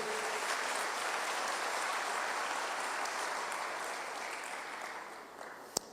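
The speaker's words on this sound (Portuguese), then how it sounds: "Dá um salva de palmas para o Senhor, aleluia." A church congregation applauds, a broad steady wash of clapping that gradually fades, ending with a single sharp knock.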